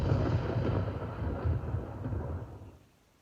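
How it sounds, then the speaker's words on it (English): Thunder rumbles nearby over a dense forest, a deep, rolling roar that swells twice before slowly fading away, with no voices. "but we do hear thunder nearby"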